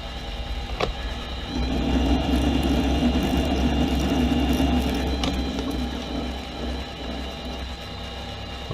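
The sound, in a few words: metal lathe cutting a thread pass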